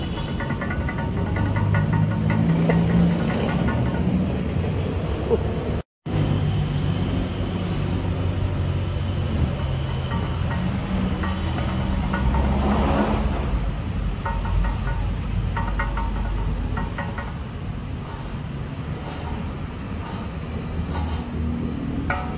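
Worn wheel bearing on a 2017 Toyota Innova 2.8 giving a loud, continuous low rumbling drone while driving, with a short dropout early on and faint clinks over the steady hum.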